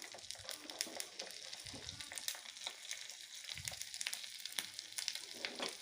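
Ginger pieces and cashews fry in oil in a pan for Kodo millet ven pongal, a steady dense crackling sizzle with scattered sharp pops throughout.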